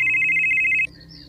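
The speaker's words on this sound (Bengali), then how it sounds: "মণ্ডলের ফোনটা বেজে উঠল।" A telephone in a Bengali detective audio drama rings with a rapid, even electronic trill that cuts off abruptly after under a second, leaving a faint tone.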